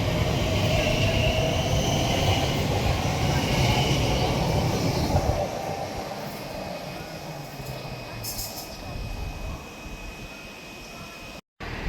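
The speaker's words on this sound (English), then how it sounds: "Departing out now is the 1842 Elizabeth Line service from" An Elizabeth Line train pulls out of Slough station on an 18:42 service from Abbey Wood to Reading, a heavy low rumble and rolling wheel noise that gradually eases off as it moves away, with a faint whine lingering.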